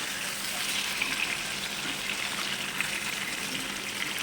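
Chicken chaap pieces fry in hot oil, flipped until reddish, with a dense, continuous sizzle heard up close and no voices.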